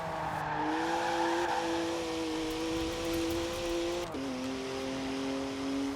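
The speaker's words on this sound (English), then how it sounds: "It's like the sound that's on the Z4 right here in Horizon 4." BMW Z4 in the Forza Horizon 4 racing game, its engine holding a steady buzzy drone that climbs slightly, then a brief gear-shift dip near the end before droning on, with faint tire noise underneath and no talking.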